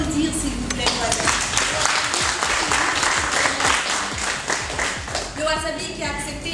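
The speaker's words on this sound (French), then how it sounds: "Je vous prie d'applaudir, s'il vous plaît, Wasabi." Lively applause at a French corporate event honoring an entrepreneur's venue, steady and fairly loud, with voices speaking over the clapping at the start and again near the end.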